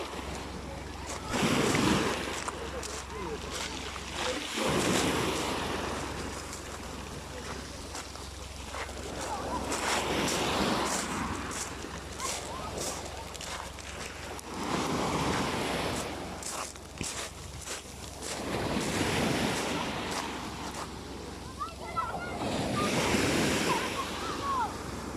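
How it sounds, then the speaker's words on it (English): Waves roll onto a beach on Kefalonia in steady rhythm, each surge swelling and washing back every few seconds, with a wind rumble throughout and no voices. "But yeah, this is the beach."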